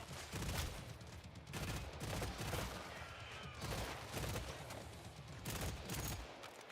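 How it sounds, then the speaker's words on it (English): Automated turret in Killing Floor 3 fires rapid bursts of gunfire, dense and continuous like a fusillade, with sharp repeated shots over a loud game mix and no talk. "Turn on our turret."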